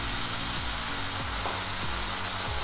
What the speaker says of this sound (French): Dans une poêle sur le feu, on a versé la marinade qui restait